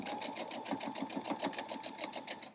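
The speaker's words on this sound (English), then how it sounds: "Just sew it all together" A sewing machine stitches fabric scraps together for a quilt block, giving a fast, even, close-up mechanical whir of needle strokes that runs steadily throughout.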